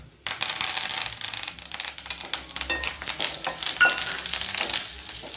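Curry leaves dropped into hot oil for a lentil thuvaiyal, bursting into a sudden loud crackling sizzle that keeps spitting and popping close by, with no talking.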